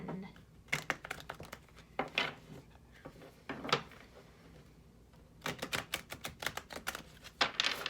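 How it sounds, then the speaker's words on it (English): Quick bursts of papery riffling and soft slaps as tarot cards are shuffled, in several separate rounds with brief pauses between them, close and crisp, with no talking. "I'm feeling the need for a little more shuffling."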